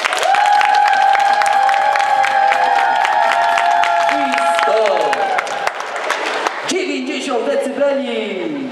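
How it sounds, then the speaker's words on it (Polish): A loud crowd in a shopping mall cheers, screams and claps continuously for a kids' dance crew at a charity finale, with high shouted voices rising over the noise and a brief lull near the end. "Brawa dla nich!"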